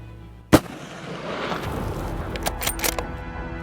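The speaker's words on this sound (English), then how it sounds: "I'm gonna shoot him right there." A single sharp rifle shot at a mountain goat in Yukon mountain country, a loud close crack at the start followed by a rolling echo and low wind rumble, with faint clicks afterward.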